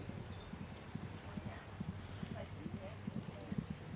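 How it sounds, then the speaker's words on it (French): A polo horse gallops across the field in a steady, rhythmic thud of hooves, fairly faint and partly under someone talking nearby. "Le dernier joueur arrive, je l'entends galoper."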